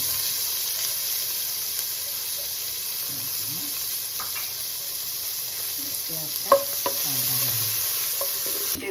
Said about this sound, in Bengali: যখন ভাজা ভাজা হয়েছে তার মধ্যে আমি পেঁয়াজ দিচ্ছি